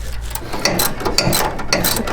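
A ratchet tightens a nut on a dual master cylinder upgrade for a 1947-1959 Chevy or GMC truck, producing close, rhythmic bursts of sharp metallic clicking in repeated strokes.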